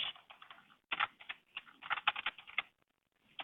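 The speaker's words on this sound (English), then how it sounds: "So I'm gonna type vbox" Quick bursts of keystrokes on a computer keyboard while a command is entered to resize a VirtualBox VDI disk, close and clear, with a short pause partway and a few final taps.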